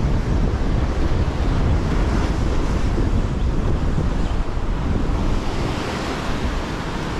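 Surf rolls in and breaks steadily along a coastline, a loud, continuous roar of water mixed with gusting wind buffeting the microphone, with no voices.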